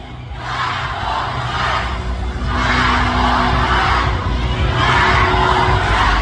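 Loud, dense crowd noise at a Manila campaign rally, with people chanting and shouting in rising waves that carry on steadily throughout.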